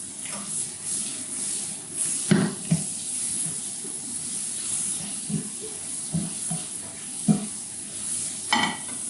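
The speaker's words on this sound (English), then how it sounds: "we're just going to saute them off to a nice golden brown colour" King brown mushrooms with butter and sliced garlic sizzle in a pan, a steady close hiss of frying broken by scraping stirs and clinks from a utensil against the pan every second or two.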